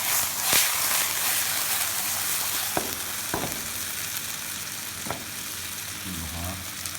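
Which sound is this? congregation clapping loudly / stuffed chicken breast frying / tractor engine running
stuffed chicken breast frying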